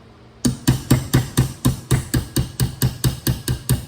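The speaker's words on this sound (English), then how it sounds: "So you're just gonna hammer that out" Steady hammer strikes driving a roll pin out through the ejection port face of a Panzer EG240 shotgun, about fourteen sharp, close, evenly spaced metallic taps with no talking.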